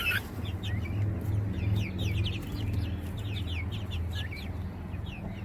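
Backyard chickens cluck steadily at close range on a morning farm, several birds murmuring and chattering at once against a constant low background hum, with no talking.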